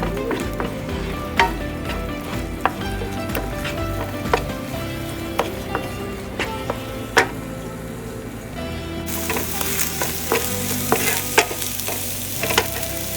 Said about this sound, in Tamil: கொஞ்சம் ஸ்ப்ரிங் ஆனியன்ஸ் போட்டுக்கலாம். நல்லா கலந்து விட்டுக்கோங்க.